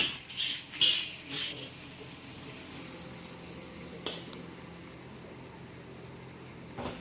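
Chicken frying with soy sauce, vinegar and black pepper in a guest house kitchen: a steady, close sizzle after a few early clattering knocks, continuing without talk.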